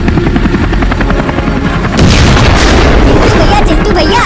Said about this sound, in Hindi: रुको मैं हेलीकॉप्टर को थोड़ा नजदीक लेकर चलती हूँ